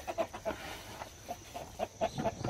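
Chickens cluck softly in a scattered, irregular series, fairly close and quiet, with low farmyard background noise.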